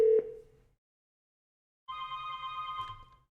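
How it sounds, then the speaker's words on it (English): A single tone fades out, then after a pause a steady electronic ringback tone of an outbound VoIP call sounds through a desk phone's speakerphone, fairly quiet. "you can hear the outbound call ringing from the speakerphone on the phone on my desk"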